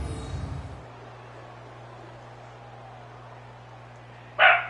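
Ginger the dog gives one loud, close bark near the end after a stretch of quiet room hum, following a brief burst of broadcast noise at the start.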